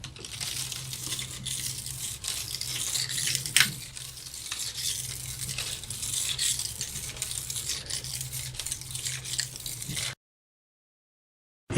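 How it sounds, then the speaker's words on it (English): A dirty window pane being rubbed by hand gives a steady, scratchy, crinkling friction for about ten seconds, close and fairly loud with one sharper bump partway through, then silence. "Here's what a dirty window sounds like."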